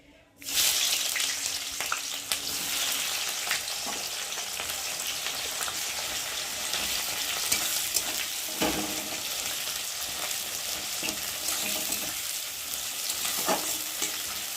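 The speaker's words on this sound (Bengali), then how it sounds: "এখন আমি এই যে কুচিয়ে রাখা পেঁয়াজগুলোকে দিয়ে ভালো করে ভেজে নেব" Chopped onions hit hot oil with a sudden burst, then fry in a dense, steady sizzle close by, with occasional stirring scrapes and no speech.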